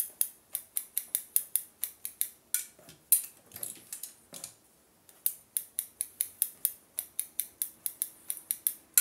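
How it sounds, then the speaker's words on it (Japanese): Scissors snip through dry hair during a short haircut, a quick regular run of crisp close cuts that pauses briefly midway before resuming at the same steady pace. "ハサミを進めていきます。"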